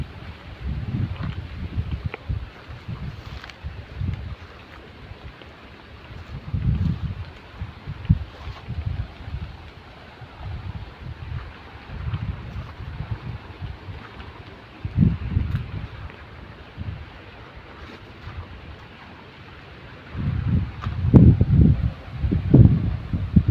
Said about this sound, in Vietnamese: thì gió nổi lên ầm ầm tại đây này